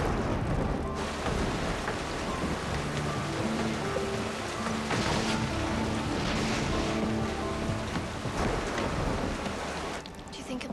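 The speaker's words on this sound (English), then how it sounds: "It's raining outside." Steady rain pours outside during a storm, a dense continuous hiss with occasional low rumbles of thunder, with music mixed in.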